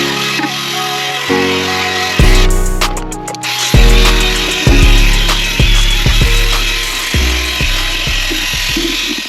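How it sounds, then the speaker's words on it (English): A drill brush scrubs a car surface coated in diluted orange degreaser, the motor whirring loudly in repeated bursts that start and stop, with scrubbing friction between them. "We're gonna grab our drill brush."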